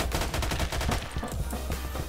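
Rapid gunfire from the Roblox first-person shooter Phantom Forces, a dense burst of loud, close automatic shots over two seconds with no talking.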